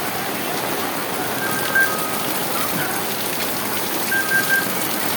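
Steady, heavy typhoon rain pours down by the Tullahan River, a dense continuous hiss with no voices, a few faint tones briefly rising above the downpour.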